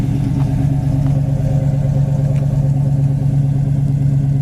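A 1970 Dodge Challenger engine idles steadily up close, a deep continuous low rumble with even pulsing and no revving, running alone without any talk over it.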